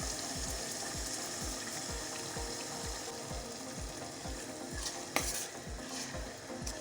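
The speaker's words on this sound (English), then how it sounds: "I'm going to stir." Blended pepper and tomatoes are stirred in a vegetable stew pot, a regular rhythmic scraping of about two strokes per second over a soft simmering sizzle. The stirring is close and steady, with no talking.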